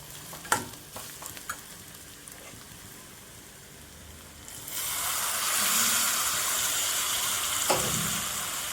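Carrot, grated coconut and moong dal being stirred in a frying pan, a few scraping clinks of the spoon at first, then a steady loud sizzle and frying hiss that carries to the end.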